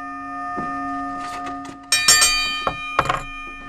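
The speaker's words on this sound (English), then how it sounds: "The bell commence right about now." A ringside bell rings at the start of a four-way wrestling championship match, with several bright metallic clangs in quick bursts over a sustained ringing tone, loud and close.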